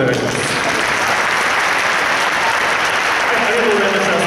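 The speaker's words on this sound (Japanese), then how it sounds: "皆さん、拍手でお願いします。" Steady, loud applause from a concert audience for the Kwansei Gakuin Glee Club after their choral performance, a continuous wash of many hands clapping throughout.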